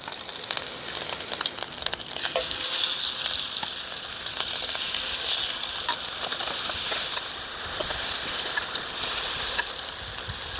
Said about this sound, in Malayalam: ഒരു വട്ടം കൂടി വറക്കണം